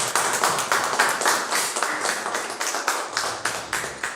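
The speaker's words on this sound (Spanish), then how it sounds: "Dale un fuerte aplauso al Señor." Church congregation clapping together during a worship service, a dense, steady run of loud claps filling the space with a rough shared rhythm, with no voices over it.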